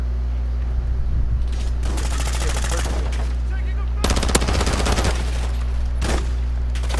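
Heavy gunfire in Call of Duty Warzone 2.0 DMZ, loud close bursts of rapid shots in several volleys over a steady game hum, with a brief voice underneath.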